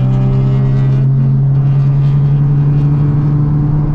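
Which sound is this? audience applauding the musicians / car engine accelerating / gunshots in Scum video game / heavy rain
car engine accelerating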